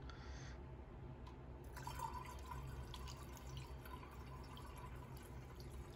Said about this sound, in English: Now we're going to take this quick rinse here and rinse it through